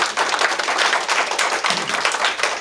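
An audience claps at a community conversation held by a governor in Huntington, a short, brisk burst of mixed applause at steady loudness, close and crowded.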